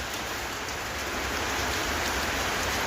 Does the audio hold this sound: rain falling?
yes